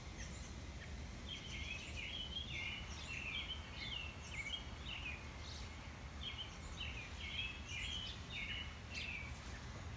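Robins and other birds chirp and sing repeatedly in short bright phrases outdoors, over a steady low rumble of wind and distant ambient noise.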